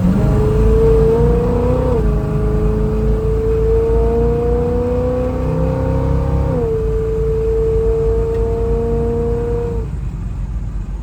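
A 1967 Chevrolet Camaro accelerates hard, its engine note climbing steadily through each gear with two clear shifts, loud and close throughout, no talking.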